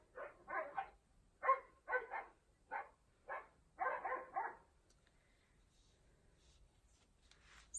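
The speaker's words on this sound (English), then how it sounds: "all the local dogs just started started barking" Several neighborhood dogs bark outside, heard indoors as a run of sharp, fairly faint barks in quick bursts for about four seconds, then the calls die away into near silence.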